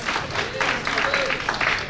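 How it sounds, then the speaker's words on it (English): At a Hmong American community kick-off event, a crowd gives council member Susan Ka a round of applause, a short burst of dense, lively clapping with voices mixed in. "So let's give her a round of applause."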